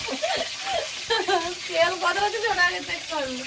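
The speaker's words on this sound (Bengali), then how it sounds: "কড়াইতে তেল দিয়ে দেবো আলুটা আগে একটু ভেজে নেব না না এই তেলেই মাংস" Meat sizzles in hot oil in a wok, a steady crackling hiss with brief louder spurts, while a person talks over it throughout.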